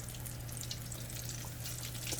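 Chicken strips frying in hot oil, a steady, faint, even crackle and hiss with a low constant hum underneath, no voices.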